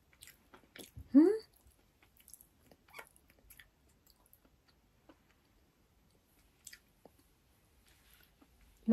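Someone chews bibingka rice cake topped with salted egg, making quiet, close, intermittent soft chewing and smacking sounds with a brief vocal noise early on.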